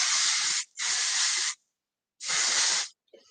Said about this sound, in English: what we'll do is we'll work with our dry oil spray here